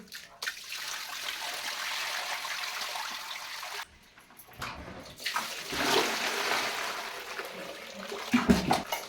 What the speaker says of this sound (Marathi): दोन तीन वेळा असे हे वेपर्स स्वच्छ धुवून घ्यायचे आहेत